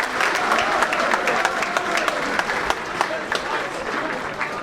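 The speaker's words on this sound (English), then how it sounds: "All the fans applauding the players applauding the fans." Football fans applaud players after a non-league play-off final, a steady wash of dense clapping from a large outdoor crowd with occasional sharper claps standing out, continuous throughout with some crowd murmur mixed in.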